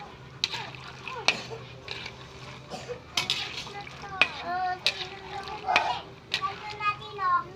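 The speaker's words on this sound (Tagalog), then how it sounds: "Haluin lang mabuti." Scraping and stirring sounds with faint sizzling of peanuts frying in oil for chili garlic peanuts, as a voice chatters intermittently nearby.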